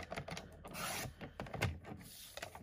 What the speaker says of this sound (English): so I'm just going to cut a piece here quick.